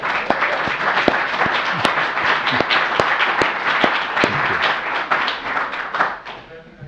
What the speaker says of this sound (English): So a little applause for Steve.